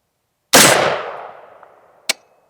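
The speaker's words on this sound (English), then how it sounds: "we'll mag dump the rest into this plate right here" A single sharp rifle shot with a long ringing decay from a steel target plate, followed by a second short metallic ping about a second and a half later, loud and close in open air.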